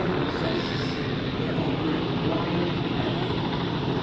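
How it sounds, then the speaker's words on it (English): Two helicopters fly near a cruise ship docked in New York, heard as a steady broadband rotor and engine drone that holds at a constant level throughout, with faint voices in the background. "there are two helicopter out there."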